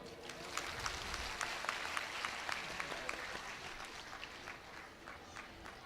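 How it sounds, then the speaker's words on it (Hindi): Audience applause at a Hindu fire-ritual ceremony (havan, Rudra Mahayagya), a sustained spread of many hands clapping at moderate distance, steady throughout with slight swells. "ताली तो बजाओ।"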